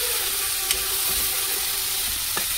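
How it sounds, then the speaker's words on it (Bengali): A pan of Bengali egg curry (dim jhol) sizzles steadily as a little water is added and stirred, producing a continuous close hiss with a couple of faint utensil clicks. "একটু জল দিচ্ছি অল্প করে, নেড়ে ঢেকে দেবো।"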